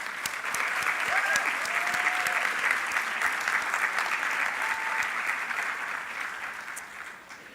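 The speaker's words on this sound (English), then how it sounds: "Let's take a moment to thank all our generous supporters, the World Foundation, the Friends Groups, and of course OBPS with a round of applause" A conference audience applauds supporters in sustained, dense clapping that carries steadily from the start, then gradually thins and fades toward the end, with no one speaking.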